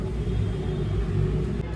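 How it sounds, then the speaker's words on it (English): A kitchen blender whirs steadily, blending smoothie ingredients with a touch of honey, a loud continuous motor drone with a deep rumbling low end that holds constant throughout, no voices over it. "I'm gonna blend all the ingredients together."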